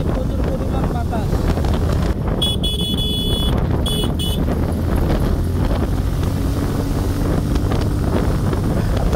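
Strong wind buffets the microphone outdoors on a trip to a waterfall, a loud, constant rumbling roar, with a brief high whine partway through.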